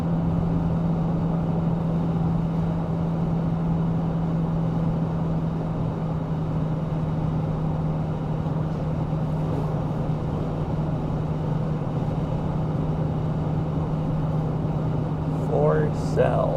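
A car cruises along a highway toward North Cascades National Park, a steady low engine drone and road hum with a constant wind rush, near and continuous, faint extra noises near the end.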